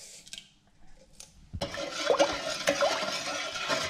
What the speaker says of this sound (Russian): Холодная вода, размешиваем